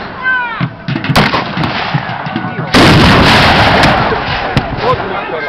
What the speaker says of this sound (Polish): Odpowiedziała czysta artyleria.